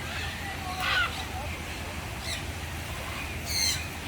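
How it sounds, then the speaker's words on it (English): Big blue parrots at Bird Park Singapore, flying about at feeding time, give a few short, harsh squawks spaced apart over soft background crowd murmur. "look at all those big blue parrots"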